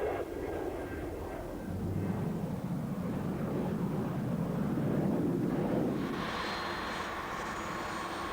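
A private jet arriving at Sebring in the middle of Florida, heard as a steady jet engine roar under wind noise, ending in a rising high whine.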